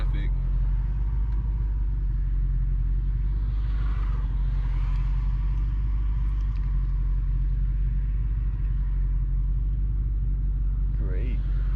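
A 1996 Mustang GT, converted from automatic to manual, idles low and steady with a loud continuous rumble. Passing traffic is mixed in.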